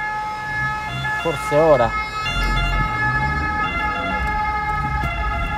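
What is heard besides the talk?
ambulance siren passing a Fiat Panda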